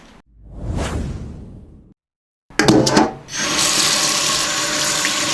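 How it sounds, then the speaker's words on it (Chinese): Tap water runs over ostrich wings being washed in a sink after their fine hairs were singed off, splashing in bursts with rubbing and handling, then a steady, loud gush of running water. "我们现在再洗一下"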